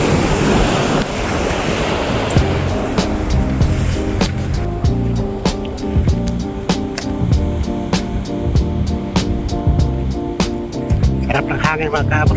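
Beachfront wind buffets the microphone over a constant roar of surf by a resort shoreline in the morning, with a train of sharp clicking or tapping sounds running through the middle.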